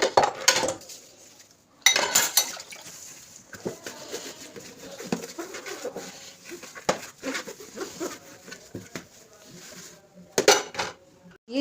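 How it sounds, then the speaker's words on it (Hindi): Dishes and pots being washed by hand, with clinks and clatters of cutlery and metal pans in bursts over running activity, a pigeon cooing faintly in the background. "अब जी बर्तनों को भी कर लेंगे साथ साथ साफ़"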